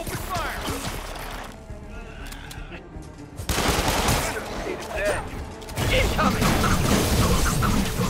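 Enemy gunfire in the Marvel's Spider-Man video game, rapid bursts of shots and mechanical clatter rising loud after a quieter stretch, mixed with game effects and shouting voices.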